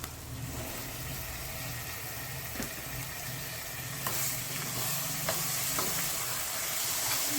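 Telangana-style mutton curry sizzles and fries in a pot, a continuous crackling hiss with occasional sharp clicks and scrapes from stirring, close and steady with no voices.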